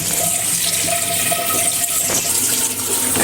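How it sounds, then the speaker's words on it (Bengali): Taro being washed in running water in a pot or sink, a loud continuous splashing and rushing of water throughout with no voices. "প্রথমে কচুগুলো ধুয়ে আমি পাতিলে উঠিয়ে নিই।"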